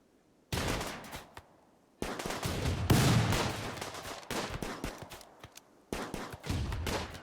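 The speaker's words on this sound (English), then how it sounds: "Oh, autocannon just nailed one of them." Bursts of autocannon fire in the colony sim Rimworld, sharp repeated reports in several loud volleys separated by brief gaps, with no talking.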